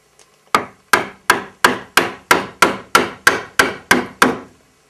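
A Narex mortise chisel struck into wood while chopping a mortise: eleven loud, close, evenly spaced mallet blows, each a sharp knock with a short woody ring, after a brief quiet start.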